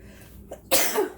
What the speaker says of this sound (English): I'm about to sneeze. I think I got some spices up the nose